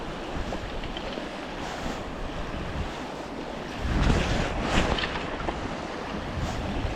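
Rough water rushes between rapids on the River Findhorn, a steady broad roar with wind buffeting the microphone and a louder swell of churning flow partway through.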